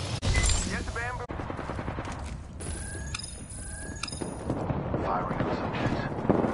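Bursts of rapid automatic gunfire ring out in Apex Legends, a dense battle clatter of shots with mechanical clicks, loud and close, with speech mixed in over it.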